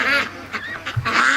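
Free-range ducks arriving home quack in a few loud, nasal bursts close by, with a dog restless nearby.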